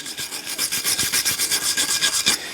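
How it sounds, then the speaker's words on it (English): A hand wire brush scrubs a Rover 75 Tourer's brake caliper carrier in quick back-and-forth strokes, a steady rhythmic rasping close up, with no talking. "we'll just give the carrier a bit of a clean up with the wire brush"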